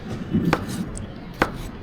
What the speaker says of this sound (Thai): หั่น ไส้กรอก แล้วก็โปะอัดให้เรียบร้อย